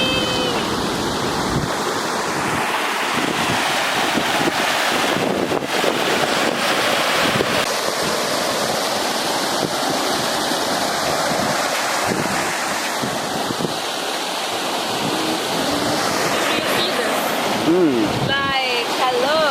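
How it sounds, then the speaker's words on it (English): Water rushes continuously near a waterfall on a Jonkershoek mountain hike, loud and close, mixed with wind buffeting the microphone and occasional voices. "Where do I hear water? It's here."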